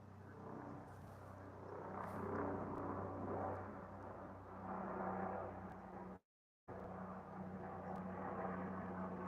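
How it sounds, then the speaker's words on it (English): A steady, rumbling helicopter engine drone holds throughout at moderate distance as it approaches, with a brief dropout partway through; no voices. "Helicopter's coming to pick up somebody."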